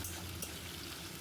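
Potato frying in oil with dried chilies, bay leaves and whole cumin gives a brief, quiet, continuous sizzle with faint crackle.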